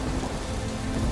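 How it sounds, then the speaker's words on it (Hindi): Heavy rain pours down over flooded fields in a dense, continuous hiss with a low rumbling undertone, loud and unbroken for the whole moment. "तब तेज बारिश शुरू हुई और उसके खेत पानी में डूब गए।"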